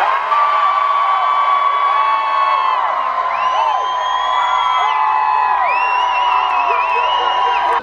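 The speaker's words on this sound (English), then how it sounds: "on the count of three, we're gonna scream real loud" A crowd gathered outside a barbershop screams loudly together on a count of three, a sustained, dense wall of shrieks and whoops from many voices up close.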